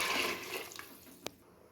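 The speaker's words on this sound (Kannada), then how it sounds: "ನೀರು ಹಾಕ್ಕೊತ ಇದ್ದೀನಿ 1 ಚಮಚ" A spoonful of water is poured into a hot pan of fried tomato rice bath masala, giving a brief hissing splash that fades over about a second, followed by a single sharp click; no voices.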